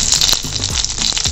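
A small cinnamon stick sizzles in melted butter in a pan, a steady bright frying hiss close by with a few soft stirring knocks.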